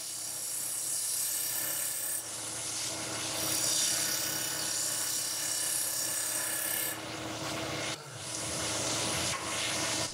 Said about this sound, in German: Ich drechsle mit meiner Doppelschalenröhre und verwende die Seite mit dem Fingernagelanschliff. Zunächst schlichte ich die Oberfläche.